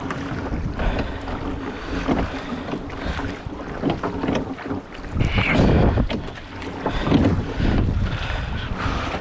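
Gusty wind buffets a small inshore fishing boat at sea, with heavy wind rumble on the microphone, rising and falling, and splashing water against the hull.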